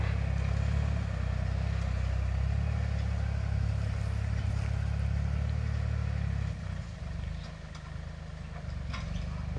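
A Kubota L4018 40 hp tractor runs in a field, heard as a steady low engine drone with faint clatter that dips slightly in level partway through, with no talk.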